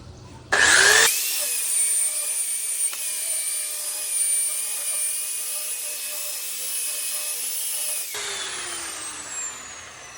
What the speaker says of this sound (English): I'm just gonna go ahead and burnish this whole thing for you